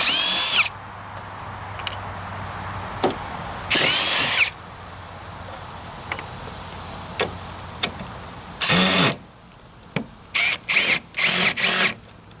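A power drill with a Phillips number 2 bit runs in reverse to back out deck screws, with several loud bursts of whirring, some long and some short, separated by quiet pauses outdoors.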